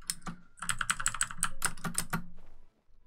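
Rapid clacking keystrokes on a mechanical keyboard, loud and close, in an irregular burst of typing that stops abruptly near the end, with no voices.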